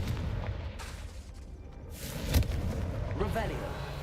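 A Confringo fire spell explodes in Hogwarts Legacy: a sharp blast lands near the middle, set against a steady rumble of game noise, with a voice briefly speaking just after.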